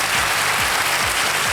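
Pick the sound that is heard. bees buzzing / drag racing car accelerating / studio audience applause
studio audience applause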